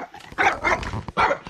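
A small dog growls and barks on a trekking outing, a few short sharp yaps and rough growls in quick succession, close and loud, with no talk over them.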